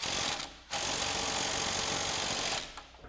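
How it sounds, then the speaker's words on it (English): An impact wrench fitted with an 18mm socket, swivel and extension tightens the top hat nut on a shock from a 2015-2020 Ford F-150 lowering kit, firing in two loud, close rattling bursts with a short pause between them. "we're going to grab our 18mm socket, swivel, and extension on our impact again, support our shock and tighten down our top hat nut"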